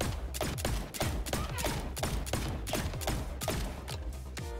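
Rapid gunfire from two guns in the shooter game Wrack Exoverse, a dense, loud stream of evenly spaced shots with sharp attacks and decaying tails, continuing without pause.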